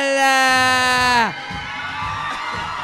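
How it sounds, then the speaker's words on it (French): An audience at a Christmas comedy show erupts into cheering and applause right after a loud sliding musical tone cuts off, the crowd noise rough and broad. "Une bonne main d'applaudissements pour La Mère Mère Noël!"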